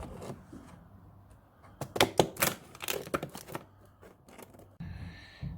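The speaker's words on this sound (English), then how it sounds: "almost impossible to open these without the help of the scissors, which I now have" Scissors snipping and tearing open plastic packaging for a Manrose extractor fan, a close series of sharp cuts, crinkles and rustles in a quiet indoor room, with no talking.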